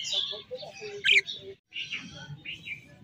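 Pet birds chirp and tweet close by in a quick run of short, bright calls, broken by a brief pause before more chirping resumes.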